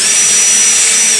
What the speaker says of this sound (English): We can drill the intermediates here now.